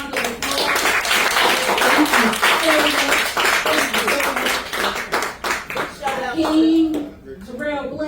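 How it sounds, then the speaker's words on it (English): Audience applause for a street literature book panel at the Hip Hop Museum, a loud, dense wash of clapping that fades toward the end, with voices talking over it. "please give these guys a round of applause"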